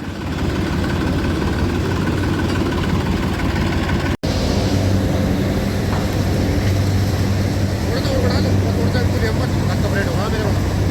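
Tractor engine idling while stopped in the field, a steady loud low rumble running continuously, with someone talking over it.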